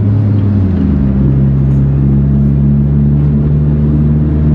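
A 500 hp Nissan Silvia S15 engine rumbles loud and close, holding a steady deep drone with a slight rise in pitch early on, with no talking.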